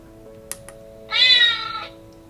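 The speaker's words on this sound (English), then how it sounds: "So he sent me a clip of their cat meowing" A recorded house cat gives one clear, fairly loud meow over a faint steady hum, with a couple of small clicks just before it.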